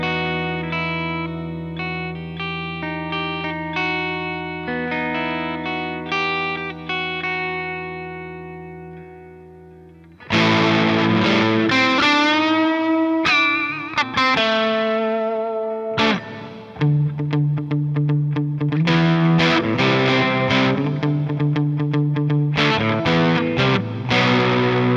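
PRS Private Stock Graveyard 2 electric guitar picked first lightly and cleanly, then much harder and punchier with distortion, loud and close with bursts of strummed chords and single notes.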